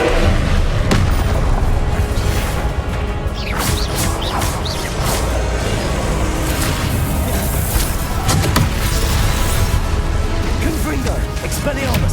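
Booming spell blasts and crashes from the Hogwarts Legacy video game fire in a dense, loud, continuous barrage, with shouting voices over the explosions.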